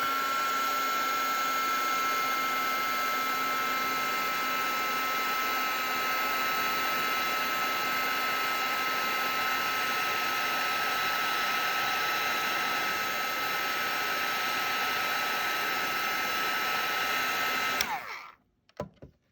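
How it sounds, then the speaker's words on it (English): A heat gun blows hot air while glazing feathers on a passport journal cover, a steady loud whooshing roar that runs unchanged for about eighteen seconds and then cuts off abruptly. "And it's still quite warm. Put my heat gun away."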